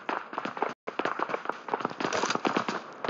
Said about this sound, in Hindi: उससे क्या फायरिंग चल रही है यार